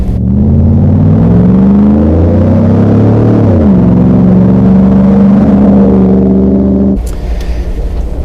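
An ICON FJ44 Toyota Land Cruiser restomod with an LS V8 engine and 4L65E four-speed automatic accelerates loudly and close, its engine tone climbing steadily, dipping at a gear change, then rising again before easing off.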